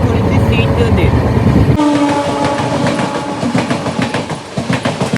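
A train at Muzaffarpur railway station rumbles loudly, with a brief horn-like tone and rhythmic clattering of wheels on track, while a person talks over the noise.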